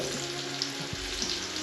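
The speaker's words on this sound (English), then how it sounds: "Let it all saute in there." Chopped carrots sauté in a soup pot, giving a steady, close sizzle with soft occasional stirring scrapes and no talking.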